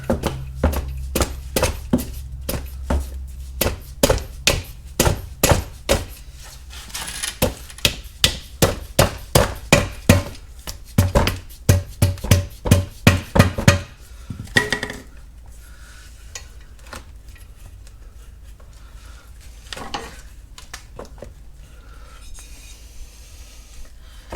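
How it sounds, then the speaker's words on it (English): A rubber mallet tapping on the cover of a Kawasaki FR730V lawn mower engine, dozens of sharp, evenly spaced knocks in quick bursts for about fifteen seconds, close and loud, then a few scattered faint clunks. "I'm gonna take the rubber mallet."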